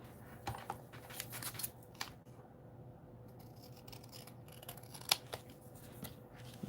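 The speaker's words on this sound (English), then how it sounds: "Cut them with my scissors too." Scissors snip a white border off paper pieces in a series of quiet, crisp, close cuts with short pauses between them.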